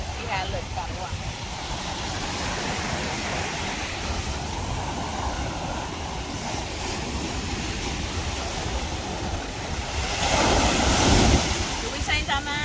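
Ocean waves break on a sandy beach in a continuous roar with heavy wind buffeting the microphone, a larger wave surging louder near the end; faint voices sit under the surf.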